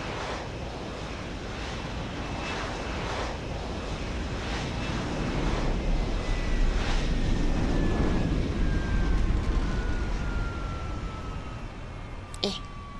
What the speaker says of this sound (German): Genau wenn wir ankommen, kommt der Heli an.